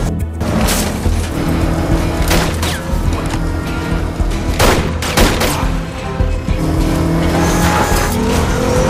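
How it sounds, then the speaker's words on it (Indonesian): A car races at speed across a desert, its loud engine roaring steadily throughout with brief sharp bursts and squeal-like transients over a dense, continuous rumble. "sebuah mobil yang melaju kencang dan melintasi sebuah gurun"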